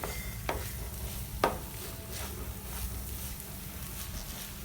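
Cooked rice being stirred into tomato thokku in a pan, a steady soft scraping and mixing with two sharp utensil clicks near the start, heard alone without talk.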